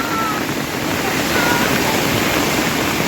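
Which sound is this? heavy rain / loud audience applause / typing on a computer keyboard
heavy rain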